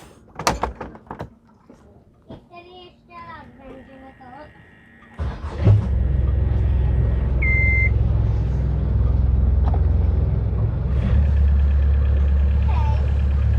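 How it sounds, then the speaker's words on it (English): A sailboat's auxiliary engine starts after some knocks and beeps, then settles into a steady, loud, low idling rumble that continues to the end while a person talks nearby. "Start the engine."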